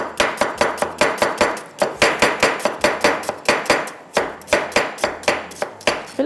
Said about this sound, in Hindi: इसको प्याज को करते हैं स्लाइस में कटिंग